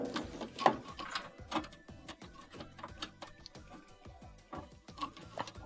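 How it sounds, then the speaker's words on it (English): A small flat blade screwdriver prying a washer's wiring harness off metal clips, with irregular close clicks, scrapes and rattling taps of metal and plastic, quiet. "let's use a small flat blade screwdriver to go behind these metal clips and pull the harness off"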